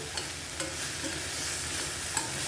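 Sprouted moong and potato being stirred with chili powder and spices in a pan, a soft steady sizzle broken by a few light scraping strokes, close and fairly quiet.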